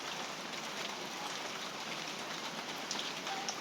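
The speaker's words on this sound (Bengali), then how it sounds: "দেখেন কি বৃষ্টি, কি পরিমাণ বৃষ্টি ভাই।" Heavy rain pours down steadily in a flood-hit area, a continuous close hiss of dense drops on surfaces with a few sharper drips toward the end.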